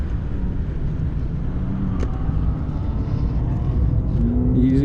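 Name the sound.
race car engine accelerating on track lap at Sonoma Raceway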